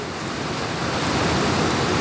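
Loud, constant broadband rushing of heavy rain and rainwater flowing down a street fills the scene, steady and dense throughout with no pauses.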